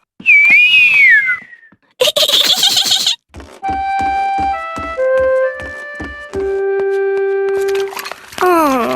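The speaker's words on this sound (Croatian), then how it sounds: "Zviždanje je ipak teže." A person whistles a melody of clear, sustained notes and short runs, with a few higher squeaky tones at the start and end, close and fairly loud.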